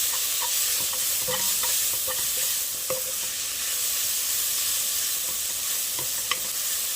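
Bacon and onion sautéing in a pan for a Zuppa Toscana, giving a steady soft sizzle with scattered light stirring clicks and scrapes, fairly close and continuous with no talk.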